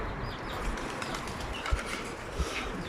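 A tumbler pigeon takes off with a brief burst of flapping wings, soft and a little distant, over steady outdoor background noise, with a couple of short thumps.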